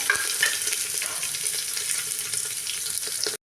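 Small shallots drop into hot oil with mustard seeds, cumin, and dried and green chillies, giving a loud, steady sizzle with stirring that stops abruptly.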